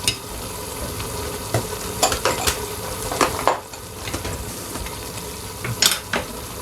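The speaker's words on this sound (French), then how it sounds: "Et je mélange le tout." Hrira soup ingredients with ginger being stirred in a pot, a steady sizzling, scraping churn with a few louder spoon knocks against the metal, close and continuous without talk.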